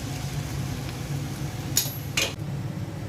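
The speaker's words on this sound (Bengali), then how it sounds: "চালটা আমি দিয়ে দিচ্ছি।" Boiled rice tipped into a pot for zarda, a quiet background hum broken by two brief metallic clinks of utensil against pot near the end, no speech.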